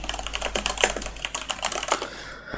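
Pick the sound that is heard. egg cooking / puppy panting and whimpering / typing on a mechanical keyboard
typing on a mechanical keyboard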